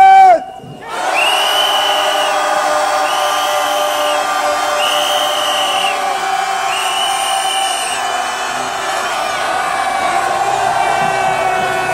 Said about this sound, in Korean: 10초간 함성은 다시 외치겠습니다